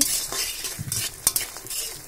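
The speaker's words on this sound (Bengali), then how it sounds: "গ্যাসের মধ্যে সয়াবিনটা ভাজি নিচ্ছি" Soybean chunks sizzle in hot oil in a pan on a gas stove, with steady frying hiss and sharp scraping clinks as a utensil stirs them.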